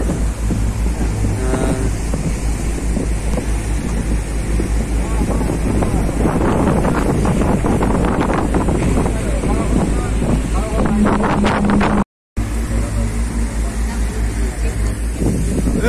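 A boat motors across the Red Sea, with a steady roar of engine, wind buffeting the microphone and water rushing past. Voices talk over it throughout, and the sound cuts out briefly near the end.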